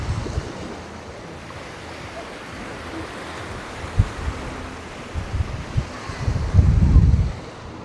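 Steady wind rushes across the microphone near the shore at Mackenzie Beach, Cyprus, with surf noise underneath and heavier buffeting gusts building toward the end.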